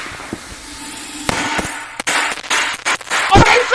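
Firecrackers set off as a Fourth of July prank burst in a rapid, irregular string of sharp, loud cracks and pops, close by, after a quieter stretch.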